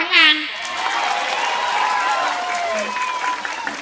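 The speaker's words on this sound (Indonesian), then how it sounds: "tepuk tangan." Brief applause from a religious gathering audience, moderate in level and continuing for a few seconds, with a voice briefly heard at the start.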